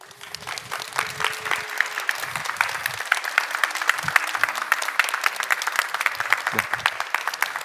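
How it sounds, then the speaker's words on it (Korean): A church congregation gives a big round of applause to welcome a pastor to the front at a fall revival service, steady clapping at moderate level with a few low murmurs and voices underneath. "목사님을 환영하는 마음으로 큰 박수로 모시도록 하겠습니다"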